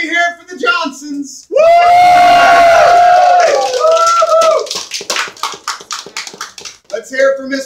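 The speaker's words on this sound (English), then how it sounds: "Let me hear it for the Johnsons" A musical's audience cheers loudly, with sustained whoops and yells that break into scattered clapping and shouts.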